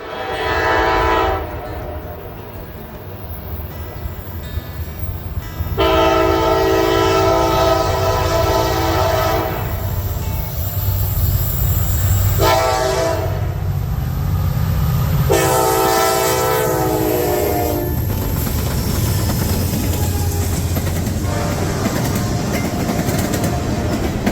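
Norfolk Southern SD60E diesel locomotive, rebuilt from an SD60, sounding several long multi-tone horn blasts over a steady engine rumble and rolling wheel noise, loud and close.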